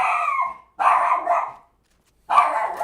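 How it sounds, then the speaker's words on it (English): A dog barking loudly at close range during a Valorant esports broadcast, three bursts of sharp, agitated barks with short pauses between them and no talk. "My dog's going wild."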